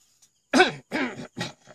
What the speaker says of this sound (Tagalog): Talagang dumadahak na, hindi niya mapigil, no?